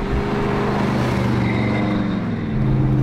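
A '64 Oldsmobile Cutlass restomod cruising on the road, its engine a steady, close low rumble with even harmonic drone, slight pitch shift near the end as it accelerates, no talking.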